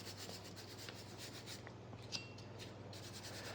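Rust is scrubbed off the splines of a 4L80E transmission part in quick repeated rubbing strokes, a faint, even scratchy abrasion over a low steady hum.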